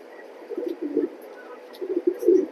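Pair of racer pigeons cooing up close, soft low murmuring coos in two short clusters with a quiet pause between, no talk.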